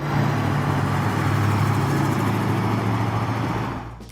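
A 1971 Dodge Super Bee with a 440 six-pack V8 rumbles loud and steady with a deep low throb, close by and alone, then drops away at the end.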